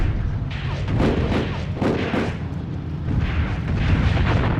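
A tank cannon firing in the game Tank Warfare: Tunisia 1943, a loud, heavy booming barrage of repeated deep blasts and rumbling thuds that fills the whole stretch without pause.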